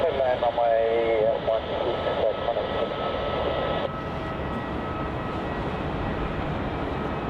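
An airliner landing on runway 16 at Melbourne Airport gives a distant, steady engine roar beneath radio voices from air traffic control.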